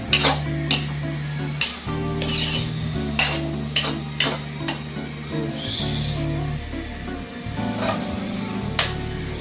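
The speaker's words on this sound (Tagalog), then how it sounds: "Haluin lang natin." Bopis, a Filipino pork lung stew, stirred in an oily pan, with repeated scraping and clinking of a utensil against metal over a steady sizzle, close and fairly loud, no talking.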